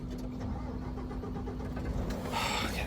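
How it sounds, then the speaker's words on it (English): A vehicle engine idling high with its cooling fan running, a steady droning rumble with a constant hum and broadband fan whoosh, nearby and continuous throughout. "Why does he have the engine idled up so much? Plus the engine fan is on."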